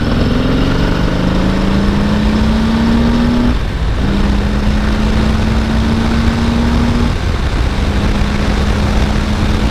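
A 2019 Harley-Davidson Deluxe motorcycle engine pulling hard while riding, a loud continuous drone that climbs in pitch through repeated gear shifts, with brief dips between them under heavy wind noise.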